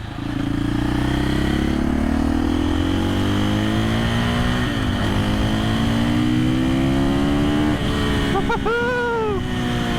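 A KTM EXC-F 500 dirt bike engine revs steadily and loudly up close, pitch climbing through the gears, then briefly easing before revving again near the end.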